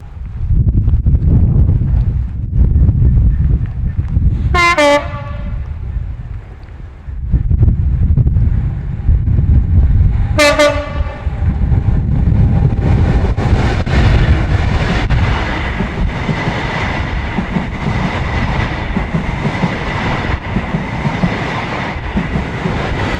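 A train coming to Blackpool rumbles past steadily with wind buffeting the microphone, and two sharp horn blasts sound a few seconds apart before the noise continues alone.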